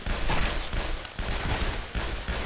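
Rapid handgun fire from the video game Guns, Gore & Cannoli, a loud, continuous stream of overlapping shots with dense impacts and no talk.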